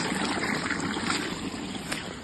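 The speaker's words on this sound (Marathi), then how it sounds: "तिथे तिथे पाण्याचा आवाज" Water rushes and gurgles steadily through a flooded stream at night in rural Konkan, a continuous close wash with faint trickling, no voices.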